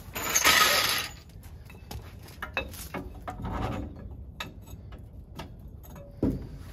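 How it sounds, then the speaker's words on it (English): A car jack's metallic ratcheting mechanism clicks in a series of irregular strokes as it is raised under a Toyota van's pinion, with a brief grinding burst at the start and scattered clanks afterward. "Throw this jack up under the pinion."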